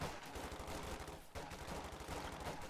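Sustained rifle and machine-gun fire in a Company of Heroes 2 battle, a dense rattling barrage with a brief gap midway, heard at a distance and fairly faint.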